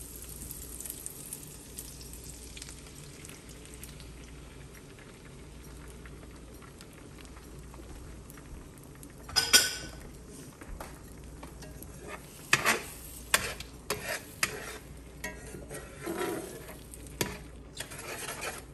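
Eggs frying in a well-seasoned cast iron skillet at a cabin, a faint steady sizzle with clinks of utensils and sharper scraping bursts in the second half.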